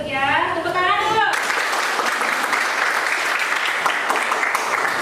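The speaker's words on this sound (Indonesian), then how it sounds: "Tepuk tangan dulu." A classroom of students bursts into applause just after a brief spoken phrase from the teacher, then keeps clapping in a dense, steady wash until the end.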